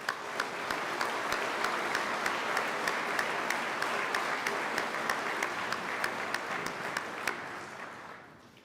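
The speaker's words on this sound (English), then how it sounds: "please join me in a round of applause for their hard work and dedication" Sustained round of applause at a peace officer academy graduation ceremony, a dense crowd clapping steadily at even loudness for several seconds before tapering off at the end.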